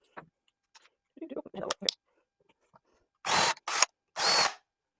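A power drill whirs in two short, loud bursts, preceded by quiet handling clicks and rustling.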